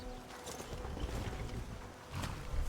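Horse hooves clip-clop in a modded video game: a quiet, uneven run of soft thuds and clatter that continues throughout, with no voices.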